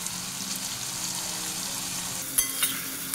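Poppy seed and green chili paste frying with ridge gourd in a pan, a steady sizzle under a couple of sharp stirring clinks near the end, close and continuous.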